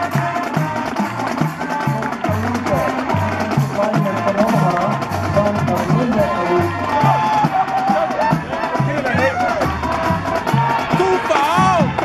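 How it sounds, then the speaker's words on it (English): A stadium crowd at a Senior Day college football game applauds and cheers for the senior class, a dense continuous roar with clapping and voices throughout. "Ladies and gentlemen, one more round of applause."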